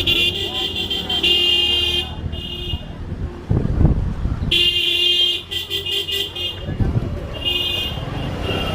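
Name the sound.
motorbikes riding up a hill road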